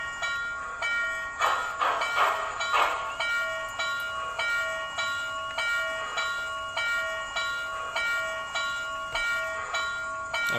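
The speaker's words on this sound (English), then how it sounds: "Not really sure how to get the bell to stop running there." Clanging bell of an MTH HO scale Southern Pacific GS-4 #4449 model locomotive, ringing in a steady repeating rhythm of roughly one strike per second, close and continuous, louder at the start and then even throughout with no voices.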